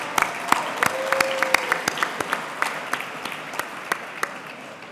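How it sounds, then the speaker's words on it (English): An audience claps for Councilman John Lee at an evening community event: a sparse, moderately loud round of applause with individual hand claps standing out, holding steady for several seconds before thinning slightly. "so please give him a round of applause"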